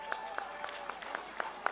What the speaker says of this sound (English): Come on, another round of applause for Mo Metcalf-Fisher there.